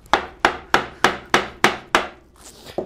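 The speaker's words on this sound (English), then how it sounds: "So just like before, I'm making sure I keep the chisel straight." A chisel is struck repeatedly while chopping a mortise in wood, seven sharp, evenly spaced mallet blows close up, each ringing briefly before the next, followed by a softer scrape and one lighter tap.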